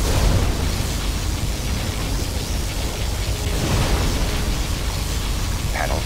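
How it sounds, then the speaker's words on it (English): A particle cannon blast rumbles in Command & Conquer Generals Zero Hour, a continuous roaring explosion with heavy low rumble and hiss that holds for several seconds, loud and unbroken. "Particle cannon activated."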